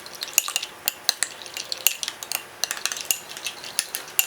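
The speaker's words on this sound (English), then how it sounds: "So now you're going to give it a nice stir." A spoon stirs beer-lime onion ring batter in a bowl, making rapid, uneven clinks and scrapes against the side with a wet, thick swish underneath, close and clear, with no talking.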